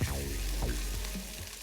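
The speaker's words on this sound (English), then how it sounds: "sauté the garlic until golden brown" Garlic sautéing in a pan, a short, steady sizzle that holds at an even level with a faint stirring scrape partway through, close and alone.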